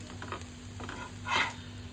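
A sabudana thalipeeth fasting pancake sizzles in a pan, a soft steady crackle with a brief louder scraping stir near the end, and no talk.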